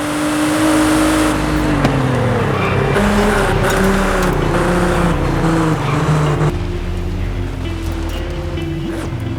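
A Nissan GT-R R35 engine drones loudly and steadily while driving fast, its pitch sliding and shifting with throttle over continuous road and wind roar, with no talk.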